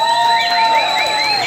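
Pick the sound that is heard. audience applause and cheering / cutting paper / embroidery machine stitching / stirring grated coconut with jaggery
audience applause and cheering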